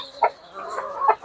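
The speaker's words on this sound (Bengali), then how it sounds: "আফার মুরগিগুলো দেখি, এই যে রাতা" Farm chickens and a rooster give short clucks close by, a couple of quick bursts within about a second, alone without talk.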